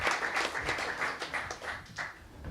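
Audience applause at a breakdance event talk show, a steady burst of clapping from a nearby crowd that carries on throughout with no talking over it.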